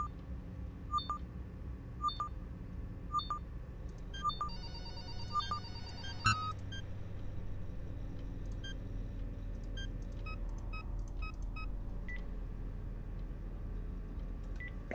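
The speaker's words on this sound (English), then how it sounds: "Why is the phone ringing?" A phone in a video game demo rings in a regular series of short electronic trills about a second apart, over a low droning ambience that continues after the ringing stops.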